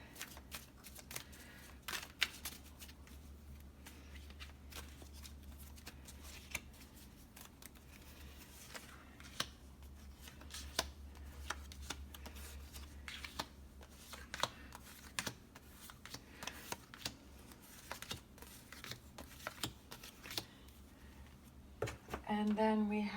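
A deck of cards is shuffled continuously up close, producing a dense run of soft riffling flicks and taps across the whole stretch, with a voice briefly speaking near the end.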